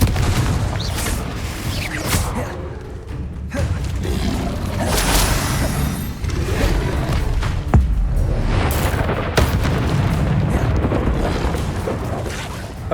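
Confringo fire spell blasts in Hogwarts Legacy, heard as a dense, loud run of booms and crackling bursts over a constant rumbling roar, with sharp impacts recurring throughout.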